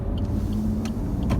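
Suzuki Ignis 1.2 SHVS Hybrid ALLGRIP driving through town, a steady low road rumble inside the car with a couple of soft thuds and light knocks as it rolls over speed bumps.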